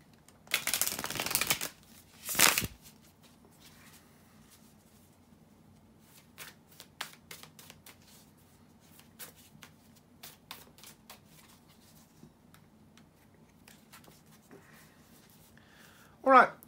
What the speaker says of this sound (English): bear with me a second, guys, to shuffle the tarot cards